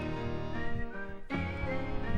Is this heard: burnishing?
no